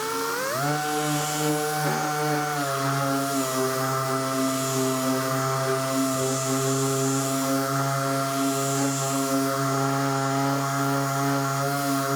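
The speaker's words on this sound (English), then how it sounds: "I've got 220 on my finish sander. I'm gonna feather out everything around the edges." Finish sander fitted with 220 grit paper, feathering Bondo filler on a mini truck: a steady, close, continuous motor whine with a constant pitch and a broad sanding hiss, no talking.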